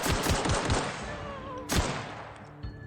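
Gunfire aimed at a marauder in the video game The Outer Worlds: a quick run of four or five sharp shots, a pause, then one louder blast and a softer final shot, with ringing game tones underneath.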